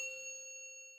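Single hypnosis trigger bell, one clear ding that rings and slowly fades, alone and fairly quiet.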